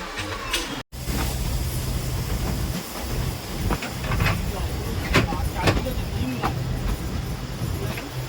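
A slow train on the Bilimora to Waghai line in Gujarat runs along the tracks with a constant loud rumble and hiss and faint rhythmic clicks of the wheels, with faint voices in the background.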